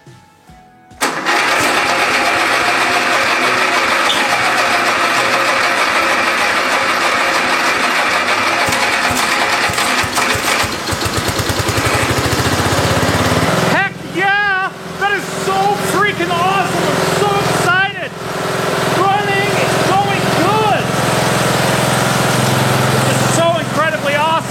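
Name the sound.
small engine started with key, running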